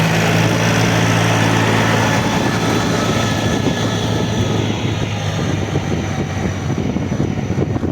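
A heavy tractor engine drones continuously at a steady low pitch while pulling a two-body plough in spring ploughing, with a constant mechanical hum and rumble and no voices.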